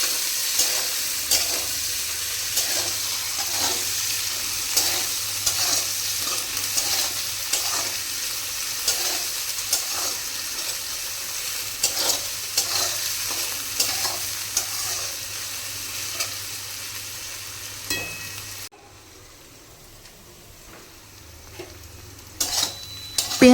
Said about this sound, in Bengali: পেঁয়াজটাকে এবার লাল করে ভেজে নেব।